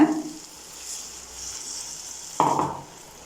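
Masala for vada curry sautéing in a pan gives a soft, steady sizzle. A brief louder scrape of stirring comes near the end, close by, with no voices.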